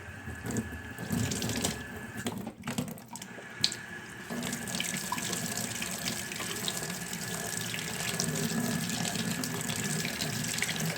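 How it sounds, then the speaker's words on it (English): Hot water runs from a tap to warm a container of gallium metal, a continuous splashing stream that briefly drops and returns before pouring steadily again. "So I'm going to go warm it with some hot water."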